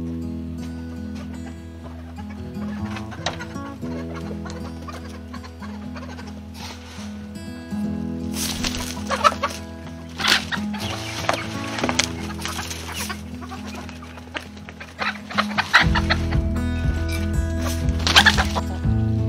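Chickens and young chicks cluck and cheep together in a farm setting, with steady nearby clucking throughout and busier, louder calls toward the end.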